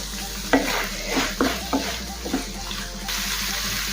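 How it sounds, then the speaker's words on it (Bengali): Paneer stuffing is stirred and fried in a pan over a low gas flame, with a soft sizzle under several scraping strokes of the spoon about every half second. "এখন কিছুক্ষণ সময় নিয়ে পনির সমস্ত কিছুর সাথে রান্না করে নেব।"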